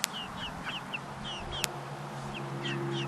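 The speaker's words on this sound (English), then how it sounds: "And here are some more chickens." Farm chickens behind an electric fence give scattered short clucks and chirpy calls, with a couple of sharp clicks, over a low hum and soft background noise.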